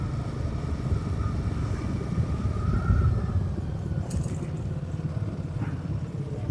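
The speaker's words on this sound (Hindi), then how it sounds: "हेलीकॉप्टर गया ऊपर से" A large helicopter passes overhead during a motorcycle ride from Delhi to Udhampur, its deep rotor rumble blending into steady wind and road noise, swelling slightly midway.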